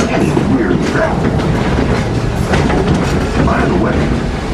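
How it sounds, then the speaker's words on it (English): A genuine steam-powered train runs along the rails of the Magic Kingdom railroad, a loud, close rumble with continuous rhythmic clattering of wheels over the track throughout. "traveling aboard one of Ford's genuine steam-powered trains that ride these rails daily here at the Magic Kingdom"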